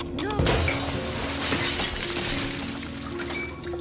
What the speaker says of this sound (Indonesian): Saat Carrie sedang marah, tiba-tiba galon di ruangan itu pecah.